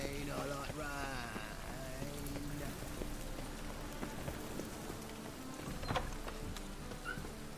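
Continuous rain patters in The Witcher 3, a dense, even hiss at moderate level throughout, with faint game sounds and a brief sharper noise near the end but no speech.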